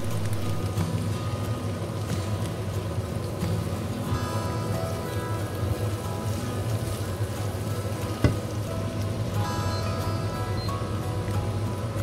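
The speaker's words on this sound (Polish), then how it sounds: "Dodaj grzyby i smaż kolejne 5 minut." Mushrooms fry in a pan, giving a steady close crackling sizzle that runs evenly throughout, with one brief louder knock near the end and no talking.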